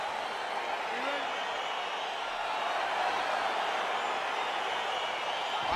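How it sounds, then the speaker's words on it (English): A UFC arena crowd rises in a steady, loud roar as the fight gets underway, a dense, unbroken wash of cheering that holds through the whole stretch. "crowd getting excited as this fight gets underway"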